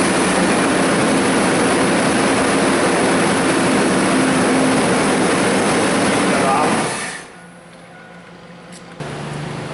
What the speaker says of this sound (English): go ahead and crank it